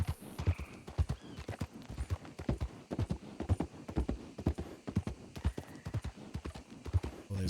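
Horse hooves clip-clop in a steady, even walking rhythm in a roleplay video game, each hoof strike crisp and close, continuing alone throughout with no talk.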